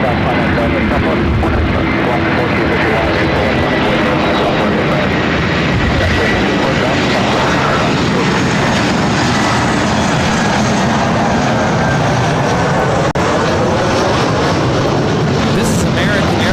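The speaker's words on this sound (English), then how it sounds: "24 left, clear for takeoff" An airliner roars down runway 24 left at LAX on takeoff, a loud, steady broadband engine rush that holds throughout, with radio chatter and voices mixed in underneath.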